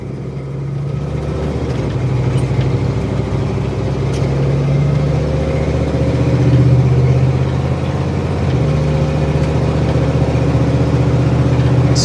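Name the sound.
1975 Ford Bronco engine running on test drive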